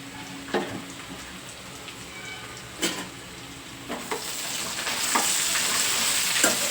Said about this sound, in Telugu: చూసుకుంటూ తిప్పుకోండి కలుపుకుంటూ బాగా ఆయిల్లోనే ఫ్రై అవ్వనివ్వండి